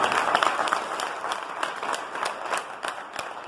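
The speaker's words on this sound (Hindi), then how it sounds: "इसके लिए जोरदार तालियां" Audience at an RCM business plan meeting bursts into steady applause, dense continuous clapping filling the room at moderate level with no talk over it.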